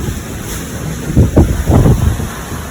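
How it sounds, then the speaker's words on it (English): An ocean wave breaks over the side of a sailboat crossing the Indian Ocean, two heavy rushing surges over steady wind buffeting the microphone. "We've never had a wave break over the side of us like that"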